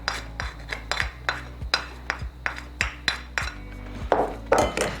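A metal spoon scrapes and clinks against a pot while mixing cut eggplant pieces with turmeric, chili powder and salt, sharp regular taps about twice a second, close and clear with no talk.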